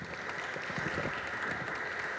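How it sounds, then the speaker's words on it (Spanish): Audience applause at a book presentation at a book fair, a steady even patter of many hands clapping throughout, moderately distant and continuous with no voices. "Un aplauso,"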